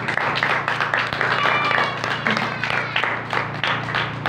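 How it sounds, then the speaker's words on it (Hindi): Church congregation clapping loudly during a Hindi-language sermon, a dense, rapid patter of many hands with some voices mixed in, steady throughout. "यहोवा खुदा के लिए एक बार जोरदार तालियां।"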